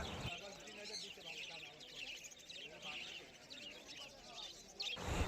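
Gouldian finches at a crowded bird market, chirping and tweeting steadily throughout amid general crowd murmur and nearby voices.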